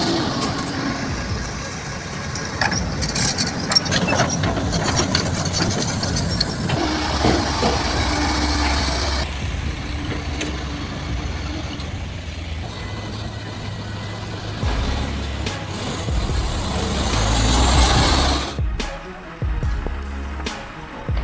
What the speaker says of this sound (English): The roar of the engine echoed loudly.